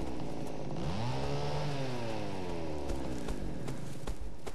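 Chainsaw revving in the horror video game Cry of Fear, a loud steady engine drone with rising and falling pitch sweeps that fills the whole clip alone, no voices over it.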